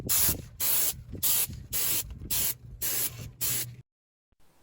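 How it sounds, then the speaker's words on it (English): An airbrush sprays colorant onto leather car seats in seven short, even hissing bursts with brief pauses between them, close to the listener, before everything falls silent. "spray the seats with the colorant."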